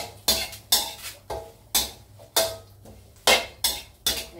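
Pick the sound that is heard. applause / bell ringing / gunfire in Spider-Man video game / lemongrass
lemongrass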